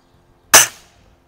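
A single shot from an RWS Diana 34 spring air rifle firing a pellet in a backyard: one sharp, loud crack with a short springy decay, alone against near silence.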